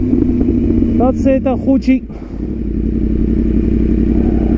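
A Yamaha R1 superbike engine hums steadily throughout with rising tonal revs in the first two seconds, close by, while someone talks over it.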